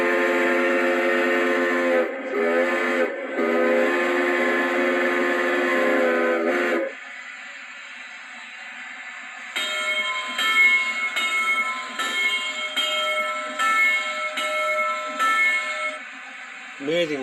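A model 2-8-8-2 steam locomotive sound unit heard up close: long whistle blasts at first, then a steady rhythmic chuffing with ringing bell-like tones, loud and without talk.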